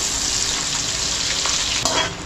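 Chopped onion crackles and sizzles in hot oil for a pav bhaji tempering, a dense, steady frying hiss close by with small spits and a brief stirring scrape near the end.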